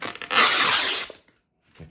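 A strip of sandpaper is torn off in one sharp, loud rip lasting under a second, which then cuts off into near silence before a faint rustle.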